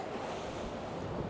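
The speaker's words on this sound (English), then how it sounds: "look at that wave coming in" Ocean waves roll in against the shore at a deep-water climbing spot, a steady, broad wash of surf mixed with wind, constant and fairly quiet.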